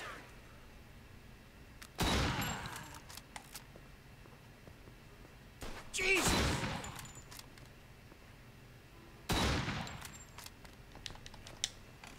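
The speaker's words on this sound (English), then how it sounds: "There's no way he shot my tire from all the way over there with a shotgun." Three loud, separate shotgun blasts in Mafia II, each a sharp crack trailing into a short decay, spaced a few seconds apart over a quiet background with faint small clicks.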